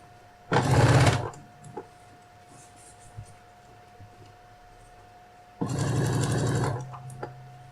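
Two bursts of a sewing machine stitching a fabric phone case, each a close, steady mechanical whir of about a second, separated by quiet handling, with a faint constant hum throughout.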